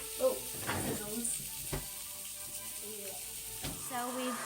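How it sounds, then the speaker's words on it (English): Bacon crackles and sizzles inside a countertop bacon maker during a kids' home cooking challenge, a continuous frying hiss with sharper pops while voices talk over it. "Bacon in the bacon maker. We're baking bacon. Oh, sizzles."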